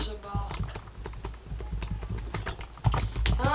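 Rapid, irregular keystrokes on a computer keyboard, clattering steadily and close by throughout, typed in the middle of a Minecraft multiplayer session on a Danish server.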